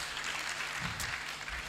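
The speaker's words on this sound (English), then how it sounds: "hands of applause to the amazing moderator and amazing speakers" Audience applause for a moderator and panel speakers at a Tanzanian health summit, a steady wash of many hands clapping at a distance, fairly faint and continuous for the short stretch.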